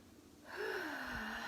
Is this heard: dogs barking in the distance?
no